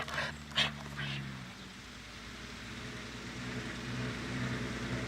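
A dog named Jumbo gives a few short whining whimpers near the start, then settles into a steady low background rumble with no clear voices.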